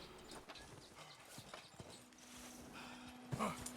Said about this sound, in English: As me and my horse truck up this permafrosted rock.